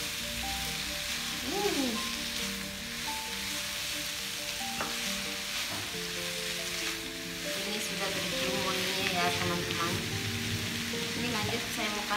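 Fried rice vermicelli with spring onion being stirred in a hot pan, a steady sizzle running throughout with scraping stir sounds and clatter, while a voice talks over it intermittently.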